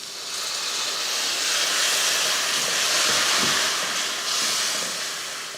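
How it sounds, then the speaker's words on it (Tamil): Water added to frying spice masala for an egg curry sets off a loud, steady sizzling hiss that swells and eases over several seconds, with no voices. "இது போல் நல்லா மசாலா வந்து இந்த மாதிரி வதக்கிட்டு கொஞ்சமாக தண்ணி சேர்த்துடலாம்"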